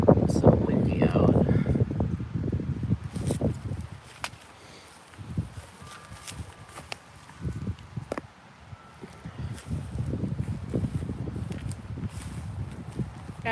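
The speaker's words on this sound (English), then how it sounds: "It's so windy out." Gusty wind blows outdoors at the Pine Ridge pet cemetery in Dedham, Massachusetts, rumbling in uneven bursts that swell and fade, with footsteps, rustling and a voice talking intermittently.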